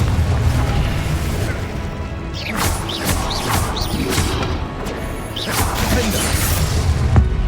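Spell blasts from Hogwarts Legacy combat sound as repeated bursts and crashes over steady game background, with a voice shouting spell names throughout.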